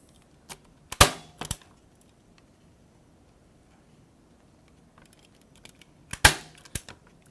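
A hand stapler fires twice into string during a napkin decoupage craft. Each shot is a sharp, close click cluster, with a quiet pause of several seconds between the two.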